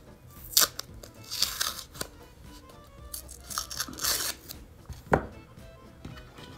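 Paper masking tape is pulled and torn during a MacBook 12 A1534 repair, giving a few crisp, close crackling rips with short bursts and taps in between, alone without talk.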